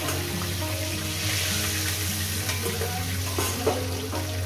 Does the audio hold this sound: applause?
no